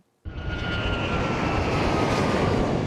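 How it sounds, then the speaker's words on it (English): Boeing 737 MAX 8 airplane landing at Denver International Airport, a loud, steady engine roar that starts abruptly and holds at full strength, close by. "A lot of planes land at Denver International Airport. That is a Boeing 737 MAX 8."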